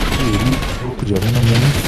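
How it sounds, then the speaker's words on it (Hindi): Gunfire in the video game GTA 5 rattles in a continuous burst lasting nearly two seconds, with a voice talking over it. "अबे क्यों भाई मेरे ऊपर क्यों गोलियां?"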